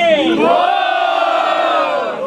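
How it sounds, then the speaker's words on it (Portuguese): A large crowd at a freestyle rap battle roars and cheers loudly, a sustained swell of many voices shouting together for a couple of seconds. "quem gostou é das rimas do Ricardinho faz muito barulho"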